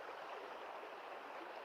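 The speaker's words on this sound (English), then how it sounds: "Oh, I think it's raining." Rain falling steadily in a forest creek bed during a thunderstorm, a continuous even hiss of drops and running water with no breaks, fairly close and without voices.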